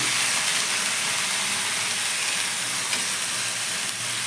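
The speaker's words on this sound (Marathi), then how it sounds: "आणि मिरची खुळून टाकली हिरवी मिरची" Green chillies fry in hot oil with cumin and garlic, giving off a loud, steady sizzle and hiss that stays close and constant throughout.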